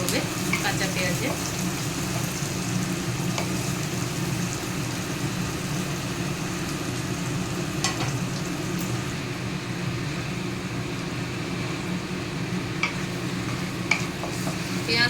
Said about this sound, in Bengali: এটাকে ভালো করে ভাজতে হবে, নাহলে একটা গন্ধ বেরোবে কাঁচা পেঁয়াজে